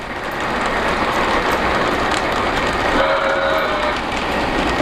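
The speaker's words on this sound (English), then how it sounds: "That little muffled whistle is because it's in the tunnel right now." A Polar Express model train runs through a tunnel, its whistle muffled by the enclosure, giving a brief faint tone about midway over a steady rumble of wheels and track noise.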